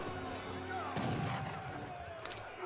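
Heavy cannon fire in the Age of Empires 3 strategy game, Spanish against Inca armies: a dense, rumbling battle din with a sharp loud blast about a second in and another crack near the end, continuous and close.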